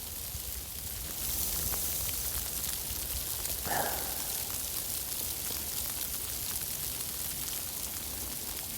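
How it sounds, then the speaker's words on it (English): Rain falling, a soft steady patter and hiss that continues evenly throughout, with one brief faint tonal sound partway through. "Don't you like the sound of the"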